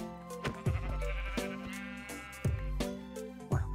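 Sheep bleat repeatedly in a video game, several short nasal cries following one another with brief gaps, close and clear with no talking.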